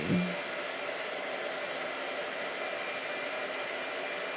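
Blow dryer running steadily at close range with a constant, even whoosh of airflow throughout, after a brief click at the start, with no talk.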